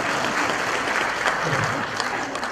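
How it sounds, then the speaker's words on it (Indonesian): Audience at a stand-up comedy show gives a short, full burst of applause, dense clapping from a crowd filling the moment at moderate loudness. "tepuk tangan buat beliau"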